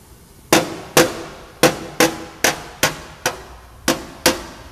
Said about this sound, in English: what I'm going to do is hammer off dolly